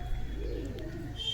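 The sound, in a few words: female pigeon, green piling or jira variety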